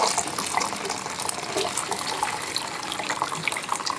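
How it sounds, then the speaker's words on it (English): Ginger and spice broth poured through a sieve into a measuring jug, a steady close liquid splashing and trickling sound running continuously without pause, with no talk. "I'm going to sieve it now. So I'm going to sieve it into another saucepan"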